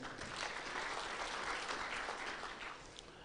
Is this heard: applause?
yes